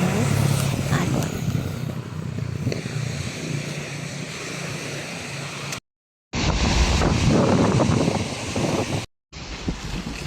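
Ocean waves break and wash on the shore as a broad, roaring surge mixed with heavy wind buffeting the microphone, loud and continuous apart from two brief cut-outs.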